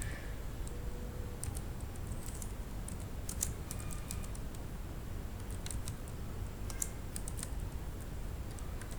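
Fingers type on a computer keyboard, entering a name into an inventory app, in quick irregular clusters of soft keystroke clicks over a constant background hiss, with no talking.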